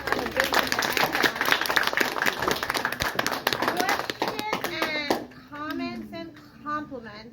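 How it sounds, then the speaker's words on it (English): A fourth-grade class claps together in a room, a dense burst of hand claps lasting about five seconds, then children's voices chatter and call out as it dies away. "Now the clapping."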